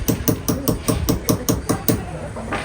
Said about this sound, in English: we're gonna pierce a small little hole in the center axis of the egg